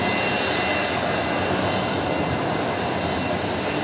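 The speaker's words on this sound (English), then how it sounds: "Qantas Link 1967 is the next departure, lining up for full length on runway 19 left." Qantas Link Embraer jet departing runway 19 left at Brisbane Airport, a loud steady broadband engine roar that fills the clip continuously with no voices.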